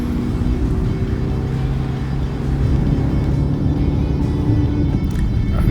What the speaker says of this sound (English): with the 192 horsepower, it's actually sufficient to pull this Countryman up the hill fast enough